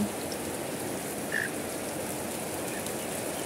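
Steady rain patters down on surfaces, an even hiss throughout with a faint bird chirp in the background and no talking.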